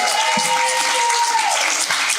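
An audience claps together at a comedy show, a dense burst of applause that fills the room evenly for a couple of seconds, with no voice over it.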